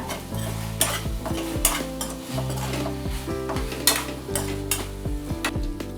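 Soybean chilli with tomato and chili sauce sautéed in a pan, steady frying hiss with repeated spoon scrapes and clanks at a brisk irregular pace, close up, alongside a sustained musical backing.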